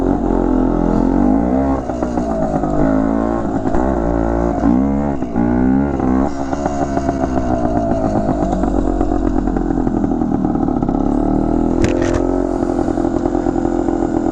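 A 1970 Yamaha DT1 250 enduro motorcycle with electronic ignition rides close by, its two-stroke engine loud and buzzing, rising and falling through revs and gear changes with some mechanical clatter.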